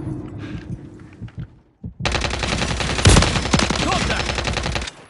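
Rapid automatic gunfire bursts loud and close in a military shooter video game, a dense sustained volley after a quieter opening with faint game sounds.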